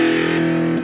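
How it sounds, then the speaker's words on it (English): One string of a cigar box guitar played through a dry distortion effect with no reverb, a short, loud, sustained buzzing note that cuts off abruptly at the end. "I'm going to get some distortion"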